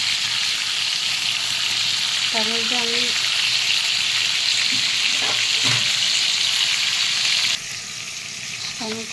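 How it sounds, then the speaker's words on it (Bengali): Potatoes for aloo dum fry slowly in a pan with a steady, even sizzle throughout. A voice speaks briefly over it, and the sizzle drops a little in level near the end. "আর এগুলো আস্তে আস্তে ভাজা হোক।"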